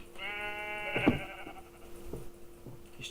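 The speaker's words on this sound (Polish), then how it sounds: "najpierw zabiję owce" A sheep in the Minecraft video game bleats as it is killed, a drawn-out nasal bleat close up, followed by a few short soft thumps.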